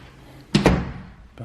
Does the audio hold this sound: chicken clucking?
no